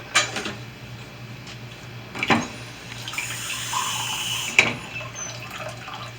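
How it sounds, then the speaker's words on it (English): Water pours steadily onto raspberries, a soft continuous splashing with a few clinks of a container, close and alone without talk. "I'm going to add some water to these raspberries."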